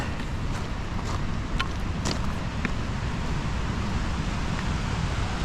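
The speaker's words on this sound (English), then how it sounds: "There is a massive waterfall underneath this bridge." Massive waterfall beneath a bridge in Kananaskis, a constant, heavy low roar of rushing water with wind buffeting the microphone, steady and loud with occasional faint clicks.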